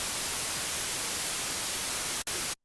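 Serum 2 synthesizer's noise oscillator emits a bright, full hiss of static-like noise, steady and loud, with one brief dropout near the end before it cuts off to silence.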